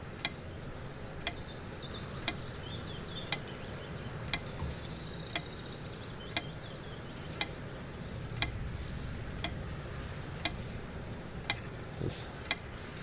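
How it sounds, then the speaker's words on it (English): A pendulum clock ticking in the video game Serena, steady sharp ticks about once per second over a quiet, low room-tone hum. "The clock. ticking begins to feel homey after a while."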